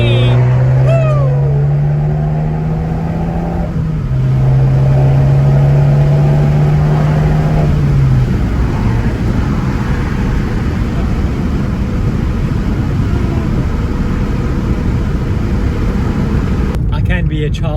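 Abarth car engine accelerating hard with a rising tonal drone through the gears and a steady loud roar, with exhaust gargles and a brief crackle near the end; someone speaks over it.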